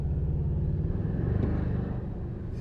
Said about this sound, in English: Look, it's turbo.